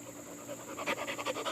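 An Australian Shepherd dog pants rapidly up close, quick rhythmic breaths over steady background noise.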